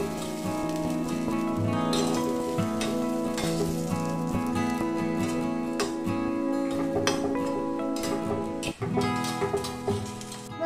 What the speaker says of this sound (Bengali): তেলটা এখানে গরম হয়ে গেছে। এবার আমি এর মধ্যে দিয়ে দেব মিশ্রণটা।